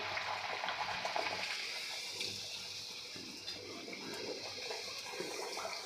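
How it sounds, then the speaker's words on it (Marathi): Jaggery puris drop one or two at a time into hot oil in a small kadai, giving a continuous, even sizzling and bubbling that stays fairly close and steady throughout. "आता तेलामध्ये आपण एक ते दोन पुरी सोडणार आहे"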